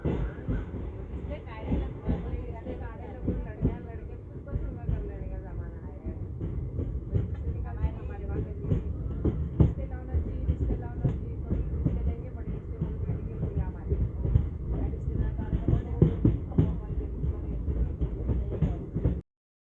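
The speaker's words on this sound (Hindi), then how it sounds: "चलिए अब हम सांगली स्टेशन से डिपार्चर देखते हैं।" Passenger train departing Sangli station on the doubled line toward Miraj, a steady rumble with rhythmic clickety-clack of wheels over rail joints throughout, heard from on board and continuous to the end.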